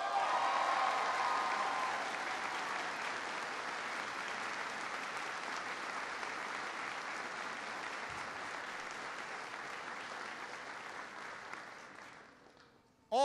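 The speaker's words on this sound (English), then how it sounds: "Give Ambassador Kim a big round of applause." A large audience gives a big round of applause for Ambassador Kim at a US Army garrison event, sustained clapping that stays strong and gradually tapers off near the end before a brief sound cuts in.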